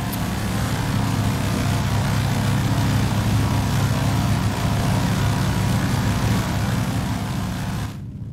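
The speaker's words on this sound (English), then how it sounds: "let me turn my engine sounds down a little bit, because I could very well be getting drowned out" A de Havilland DHC-2 Beaver radial piston engine and propeller in the X-Plane flight simulator drone loudly and steadily up close, a constant dense roar that cuts off abruptly near the end.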